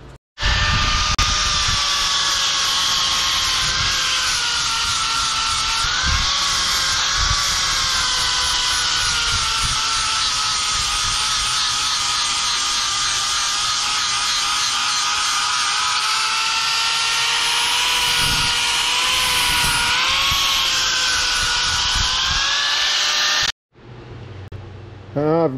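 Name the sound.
grinder sharpening an edge on turbine blade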